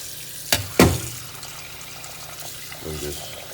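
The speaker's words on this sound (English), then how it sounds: "and wash the rice" Water splashing and running in a sink while rice is rinsed for meal prep, two sharp splashes followed by softer trickling, near and moderately loud, with a voice talking lightly in the background.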